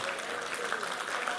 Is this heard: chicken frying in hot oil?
no